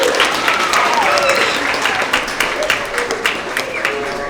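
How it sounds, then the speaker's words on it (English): Audience applause fills a school award assembly hall, steady and dense at first, then thinning into scattered individual claps toward the end, with some faint voices mixed in. "If we can give them a big round of applause"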